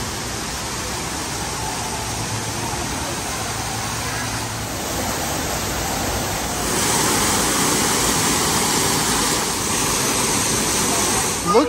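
Water runs steadily through streams in the indoor atrium of Gaylord Opryland Resort in Nashville, a continuous broadband rush that swells a little louder midway and holds level to the end, with no talk over it.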